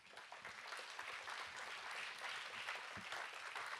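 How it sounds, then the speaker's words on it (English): Big round of applause from a conference audience at a sustainable business forum, continuous dense clapping heard from a distance, rising slightly and holding steady throughout. "So let's give her a big round of applause."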